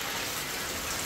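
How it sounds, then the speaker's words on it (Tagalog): Heavy typhoon rain pours steadily on a hut, a dense, loud, continuous wash of water with no clear gaps or voices. "lakas na naman ang ulan. Kala ko titigil na. Hindi pala."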